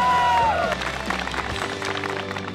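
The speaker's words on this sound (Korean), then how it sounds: "어느 때보다 진심에서 우러나오는 박수 소리가 뜨겁다." Applause and cheering break out for the winning team at an army live-fire shooting training event, a dense burst of clapping with crowd noise and a brief whistle-like tone near the start.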